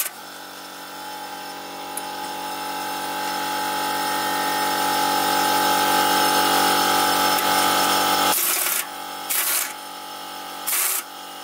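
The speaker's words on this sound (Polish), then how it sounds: "Wkręcę śrubę jeszcze z boku, która trzymie właśnie amortyzator." A power tool whirs steadily while tightening the side bolt that holds the shock absorber on a BMW E46 coupe during suspension work, its pitch rising over several seconds, then short bursts of the tool, close and loud.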